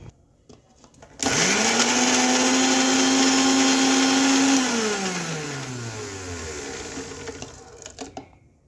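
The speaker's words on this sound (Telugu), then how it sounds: "చల్లారితే పచ్చడి తిప్పేయాలండి. ఒక్క తిప్పు తిప్పాలి" A mixer grinder whirs loudly as it blends a tomato and mint chutney, starting abruptly with a steady high whine that holds for a few seconds and then winds down in falling pitch until it stops.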